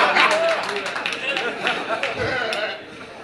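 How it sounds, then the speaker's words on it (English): Awards-show audience clapping with scattered shouts and voices mixed in, a dense steady patter that fades a little toward the end. "A round of applause for Mr."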